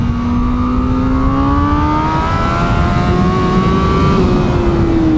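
A 2021 Honda Fireblade SP sport motorcycle at race pace on a track, its engine a loud, steady high-pitched wail that climbs and holds through the gears with no voices over it.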